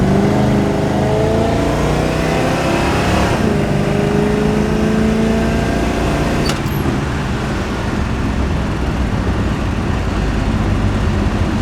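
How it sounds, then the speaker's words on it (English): A daily-driver car with a slight exhaust leak accelerates, its engine rising in a loud, steady drone heard from inside on the road, with a single sharp tick partway through. "A little bit of an exhaust leak."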